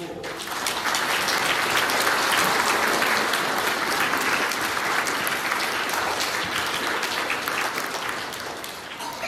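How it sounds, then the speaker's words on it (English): Congregation at a Mass in Trowbridge applauding a school class, a full, sustained burst of many clapping hands rising quickly and holding steady for several seconds before easing off slightly. "Give them a round of applause."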